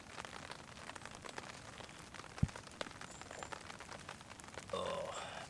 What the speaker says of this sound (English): It's unfortunate it's raining now.